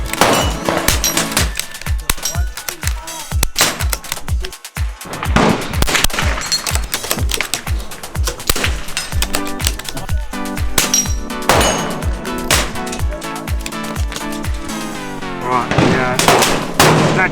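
Gunshots ring out on a competition shooting stage as the shooter fires one-handed with the support hand, a long string of loud, sharp reports in quick irregular succession with clinking steel between them.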